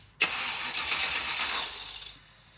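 A carbureted Toyota engine with fuel still not reaching the carburetor bowls cranks for an instant, then catches and runs loudly and steadily for about two seconds, close by, with no talk.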